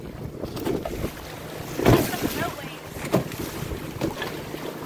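A boat pushes through choppy water under steady wind buffeting, with louder splashes and hull slaps around two and three seconds in and a lighter slap near the end.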